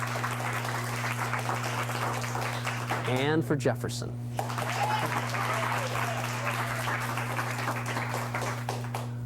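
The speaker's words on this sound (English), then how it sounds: "A big applause for Washington." Studio audience applauds the high school teams on a 1982 televised Scholar Bowl quiz show, steady clapping throughout with a steady hum beneath, while a host's voice speaks briefly over it.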